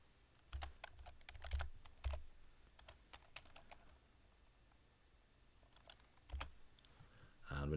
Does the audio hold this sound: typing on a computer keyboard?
yes